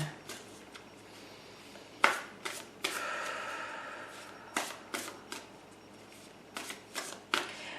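Tarot cards are shuffled in a series of quick, crisp riffling bursts, some sharper than others, with soft handling noise between them.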